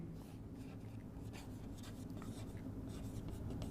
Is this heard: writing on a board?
yes